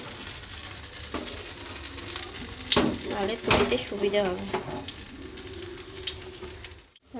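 Bora fritters shallow frying in a little oil give a low, steady sizzle with occasional clinks of a utensil against the pan, heard under a woman's speech.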